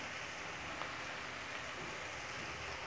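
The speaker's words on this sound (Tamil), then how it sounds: "வெங்காயம் நல்லா வதங்கிட்டு இருக்கு." Onions and garlic frying in a pan for a brinjal kuzhambu, giving a steady, even sizzle throughout, close and continuous with no speech.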